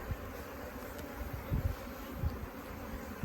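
Package honey bees, workers with a few drones, buzz while being installed into a top bar hive, a soft continuous hum with occasional nearer swells as bees fly close.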